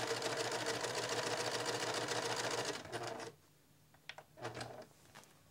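A sewing machine stitches mitered quilt binding in a steady, rapid close-up whir for about three seconds, then stops, leaving faint handling clicks and rustles.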